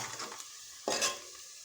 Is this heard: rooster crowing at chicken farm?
no